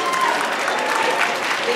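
Audience applause at a ballroom dance event presentation, a brief, steady, dense burst of clapping from a crowd that holds at full strength throughout.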